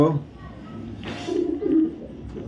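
A female racing pigeon gives a couple of soft, low coos close by, amid faint background noise.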